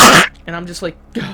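A voice imitates a dog's short, harsh cough with a throaty burst followed by a few gruff vocal sounds, close and loud, within his speech.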